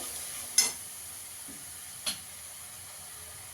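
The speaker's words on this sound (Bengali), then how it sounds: "টক দইটা দিয়েও ভালো করে মিশিয়ে নেব, গ্যাসের আঁচটাকে কম করে।" Sour yogurt is stirred into a korma over a low gas flame: a quiet, steady sizzle with three soft scraping strokes of the spoon spaced through it.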